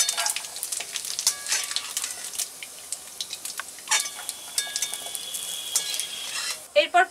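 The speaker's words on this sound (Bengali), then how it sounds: "ফুলকপি আর গাজরগুলো ভেজে তুলে নিব।" Cauliflower and carrots frying in hot oil for vegetable chops, a crackling, bubbling sizzle at moderate level with sharp spatters and a few metallic clinks of a utensil near the end.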